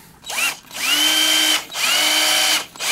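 Power drill boring a 3/16-inch hole in sump pump discharge pipe, two sustained whining runs with rising pitch as the motor spins up, separated by short pauses, loud and close with no talk.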